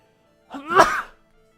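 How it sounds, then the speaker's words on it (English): A single sharp sneeze right into a microphone, one short loud burst lasting under a second, then silence. "Sorry, I just sneezed almost directly into the microphone."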